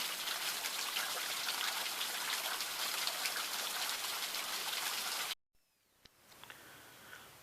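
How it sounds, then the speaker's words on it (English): Weeping Ridge Waterfall in Torreya State Park pours in a steady, loud broadband rush for about five seconds, then cuts off abruptly to near quiet with a few faint sounds after. "Weeping Ridge Waterfall"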